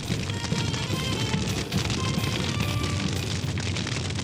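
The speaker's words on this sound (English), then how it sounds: "The fire and fireworks creates a gold glow in Valencia." Fireworks burst in dense, continuous volleys during the Fallas festival in Valencia, Spain, a loud crackling barrage of booms and pops with no pauses.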